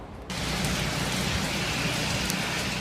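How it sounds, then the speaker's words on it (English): Heavy rain pours steadily across the Pacific Northwest during a record-breaking storm, a dense, even hiss that sets in abruptly after a brief quieter start and holds at constant loudness throughout. "Overnight, heavy rains pounded the Pacific Northwest."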